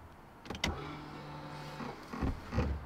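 Electric parking brake on a Civic Type R whirring briefly as its motor actuates, a short close mechanical buzz followed by a few clicks, quiet in an otherwise still space.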